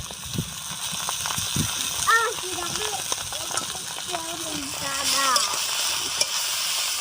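Egg chowmein with vegetables stir-fried in a pan, a steady sizzle with occasional scraping clatter running throughout under a voice talking.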